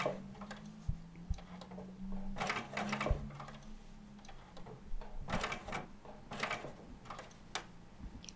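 A sewing machine runs short bursts of zigzag stitching for a buttonhole on jeans, several separate stitch runs with brief pauses between them, close and fairly quiet with no talking.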